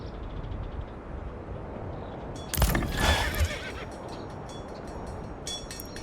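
A horse neighs in the Manor Lords medieval village game, a single whinny burst near the middle over a steady ambient bed, with a few faint clip-clops around it and no talking.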